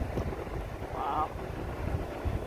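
Steady wind rushes over open water near portage rapids while canoeing, a continuous low roar buffeting the microphone, with a faint brief tone partway through.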